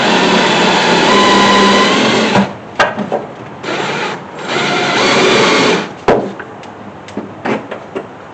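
A power driver runs a screw into the fender well of a Mustang, a loud close whir for about two seconds, then shorter bursts and clicks of the tool settling, with no talking.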